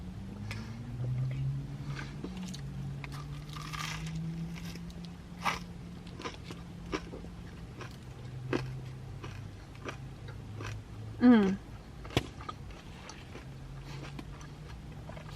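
Close, intermittent crunching and biting of crispy bacon, with small crackles scattered over a quiet background hum.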